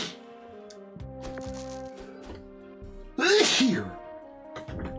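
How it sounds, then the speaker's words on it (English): Repeated cartoonish sneezes from enemies in the dice-based dungeon game Dicey Dungeons, a loud burst about two-thirds through over steady game music and clicks. "there's some of those sneezes I promised"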